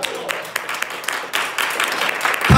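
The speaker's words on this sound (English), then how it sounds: "Right there, I want you to clap your hands and give God praise right now." A church congregation claps its hands during a sermon, a mix of scattered then fuller, sustained applause growing slightly louder, with a few voices faintly under it.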